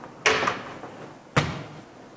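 Drawer of a classroom document camera unit sliding shut, two dull thumps about a second apart with a brief rumbling slide after each, close and moderately loud in a quiet room.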